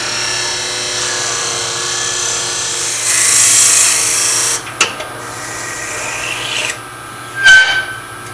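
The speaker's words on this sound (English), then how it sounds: "Here we go drilling." Drilling into wood on a lathe with the speed turned down and tailstock locked, a steady rasping, rubbing grind running continuously, rising in intensity partway through, with a few sharp knocks and scrapes near the end.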